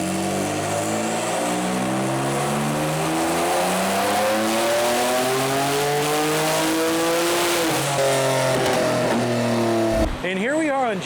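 An 800 hp Kia Stinger tuned on JB4 Pro Map 3 at 26 psi boost, running full E85 with port injection, roars loudly through a long sustained pull with climbing pitch, then shifts or cuts abruptly near the end.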